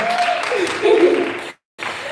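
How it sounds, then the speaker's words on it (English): Applause from an audience at a panel discussion event, sustained clapping mixed with voices that swells, cuts out abruptly, then resumes. "Keep clapping, keep clapping."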